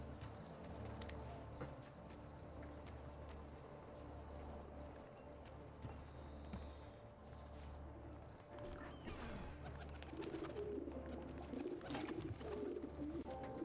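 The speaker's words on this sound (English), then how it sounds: "Carrier pigeons, quite a common thing." Carrier pigeons coo faintly in Assassin's Creed 2, set against a steady low game ambience with hoof clops and occasional clatters.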